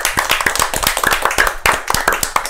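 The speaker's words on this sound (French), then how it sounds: "un grand applaudissement à toute l'équipe parce que vous êtes fabuleux." Crowd applause for a team, many hands clapping in a dense, continuous patter with some sharper individual claps standing out, close and loud throughout.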